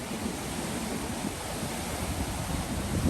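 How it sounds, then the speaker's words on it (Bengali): Rough sea at Colombo churns against the shore in a continuous heavy wash, with wind buffeting the microphone and swells building slightly toward the end. "স্রোতের বাড়ি খেয়ে মানে এখান থেকে উত্তাল সমুদ্র"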